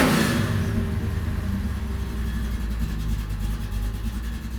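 A running car engine holds a steady low rumble throughout, close and continuous, with a slight swell at the start and no voices over it.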